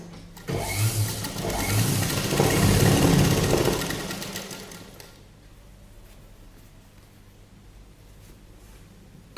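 A sewing machine stitches a padded blouse, a loud, fast, steady mechanical whirr running for several seconds before stopping abruptly into quiet room tone.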